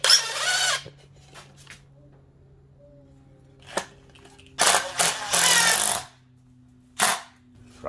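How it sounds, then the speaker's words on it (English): A power drill driving a screw into wood while building a table-top Christmas tree stand, several short whirring bursts separated by quiet pauses, one long run in the middle. "I'm going to use a screw on this one."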